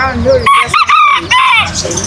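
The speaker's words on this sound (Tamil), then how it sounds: "இது குட்டி சேவல் போலயே" Young rooster clucking and giving short, squeaky crow-like calls at close range, loud and repeated in quick bursts.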